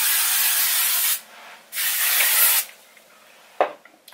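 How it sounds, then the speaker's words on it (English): Hairspray is sprayed onto curled hair in close, hissing aerosol bursts: two long sprays separated by a short pause, then quieter handling sounds and one brief final puff. "Okay, let me spray this side just a little bit."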